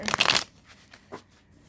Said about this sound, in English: let's do a quick shuffle or two here